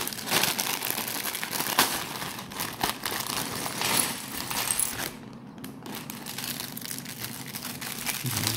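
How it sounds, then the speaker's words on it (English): A plastic bag of Lego pieces crinkles and rustles loudly and continuously as it is opened, with a brief lull before the crackling resumes, and no speech. "Open the bag."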